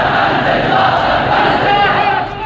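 Huge crowd of protesters on the streets of Lahore roaring and chanting in unison, loud and dense without a break, voices blending into one continuous shouted wall of sound.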